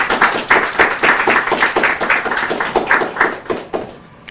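Audience at a church Bible contest between Salvation Army and Divine Healers teams applauds for a district youth director, a steady close burst of many hands clapping that fades out near the end.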